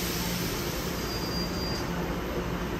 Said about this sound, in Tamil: அதெல்லாம் கொஞ்சம் லோக்கல் ட்ரெயின் மாதிரி அங்கே போது பாருங்கள்